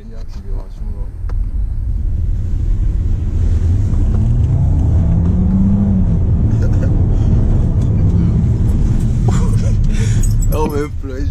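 A DS5 with a four-cylinder turbo engine pulls hard under acceleration, a loud rising engine drone that climbs steadily in pitch and holds close and strong, with wind rush and brief voices near the end.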